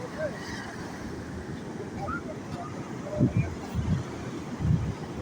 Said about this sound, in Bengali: কি সুন্দর ঢেউ আসতেছে